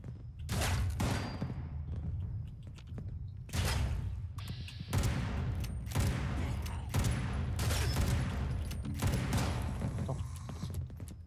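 Gunfire in the Fallout 76 video game, several loud bursts of shots separated by short gaps, heavy and booming, with a few thuds between them.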